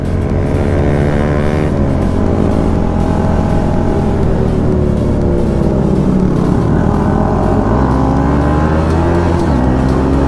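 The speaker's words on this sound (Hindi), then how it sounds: "ओ भाई कितना साउंड कर रही है इसकी बाइक" A motorcycle engine revs hard and loud nearby, its pitch climbing and falling through several throttle pulls on a ride where an R15M and a Duke 250 are riding together, with no voices over it.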